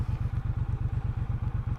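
Triumph Bobber Stealth motorcycle cruising, its engine giving a deep, evenly pulsing thump at a steady pace, fairly close and alone with faint wind noise above.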